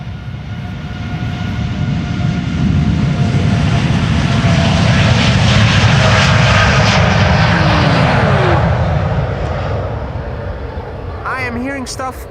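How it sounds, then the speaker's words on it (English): An airliner departs Amsterdam Schiphol Airport, a ten-year-old aircraft that first flew in December 2014. Its loud, close engine roar builds, holds steady for several seconds and then slowly fades. "10-year-old airplane, first flight December 2014"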